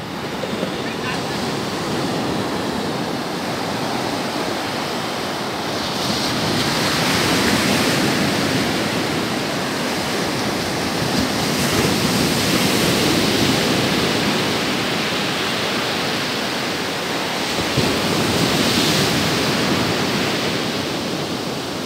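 Surf rolls steadily onto the beach at Praia da Armação in Penha, Santa Catarina, a dense continuous wash that swells and fades with each wave, with some wind buffeting the microphone.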